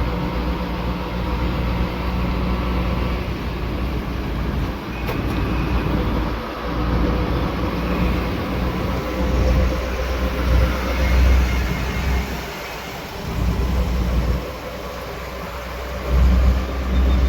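A running train gives a steady low rumble with a faint tonal hum, continuous and fairly loud throughout, swelling slightly near the end.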